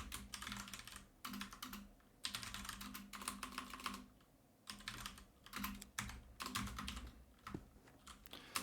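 Typing on a computer keyboard: close, quiet bursts of rapid keystrokes broken by short pauses, with no speech.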